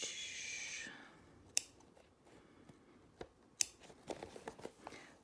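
Scissors snipping slowly around a circle on a small craft fob piece, quiet close cuts in a sparse, uneven series that grows busier toward the end.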